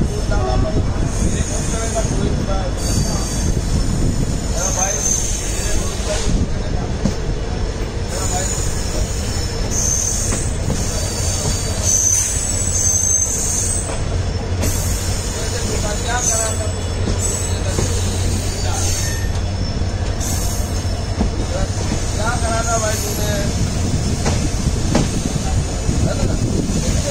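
The Trivandrum Veraval Express rolls along the Konkan railway after leaving Madgaon in Goa, heard from aboard in a general coach as a loud, steady rumble with wheel clatter and squeals, and voices faintly underneath.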